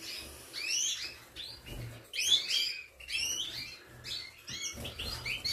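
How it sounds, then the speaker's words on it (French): Goldfinches and canaries in an indoor bird room, chirping and trilling close by in several lively bursts separated by short pauses, over a low background hum. "Donc les oiseaux vont bien, tout va bien."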